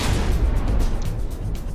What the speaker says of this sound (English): That gun took a pretty nasty shot.